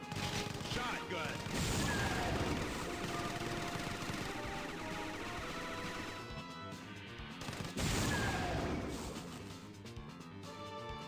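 Rapid gunfire in a StarCraft custom game, dense volleys of shots and crashes over a busy game soundtrack, loud and continuous with a brief lull before another burst.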